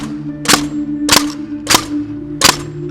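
Pneumatic nail gun firing four sharp, loud shots at an uneven pace while finishing a roof, with a steady compressor-like hum running underneath.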